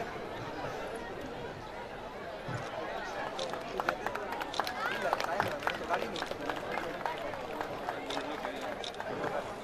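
Audience at an outdoor spring festival stage at Mukutmanipur clapping in a continuous patter that builds in the middle, with crowd chatter and an announcer's voice over it.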